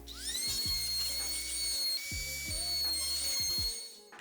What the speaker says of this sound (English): I'll go ahead and route the edges of my handle just to make it more comfortable